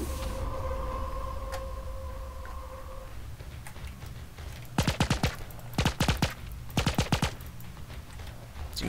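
Bursts of gunfire in the block-building shooter game Minimum: three tight clusters of rapid, loud shots about a second apart, following a quieter stretch with a steady electronic tone.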